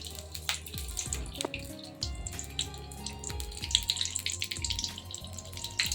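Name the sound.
curry leaves frying in hot sesame oil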